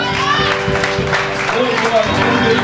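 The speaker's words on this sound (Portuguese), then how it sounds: "Vamos aplaudir ao nosso Deus nessa noite!" A church congregation claps together during an evening anniversary worship service, steady dense applause mixed with cheering voices and music carrying on underneath throughout.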